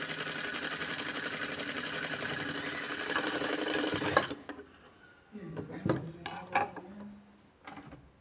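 Close, steady motor buzz of a sewing machine running a line of stitches along stretchy bias-cut fabric for about four seconds, then stopping abruptly and leaving scattered clicks and handling knocks.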